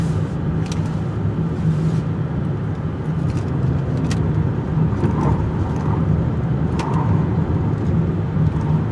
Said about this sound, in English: take the turning circle to see if we can spin this car out